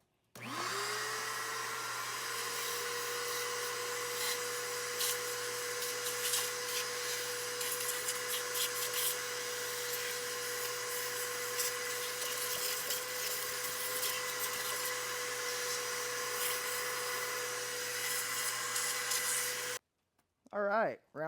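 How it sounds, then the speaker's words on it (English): Rotary tool fitted with Harbor Freight sanding bits, porting an LS1 cylinder head: a steady high-pitched motor whine runs for nearly twenty seconds with gritty grinding over it, then stops abruptly. "I got these sanding bits I picked up the other day from Harbor Freight."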